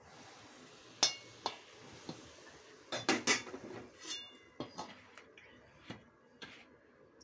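Spices being stirred into a hot pan while making a homemade black masala, heard as scattered metallic clinks and scrapes of a spoon against cookware, moderately close with quiet gaps between strikes.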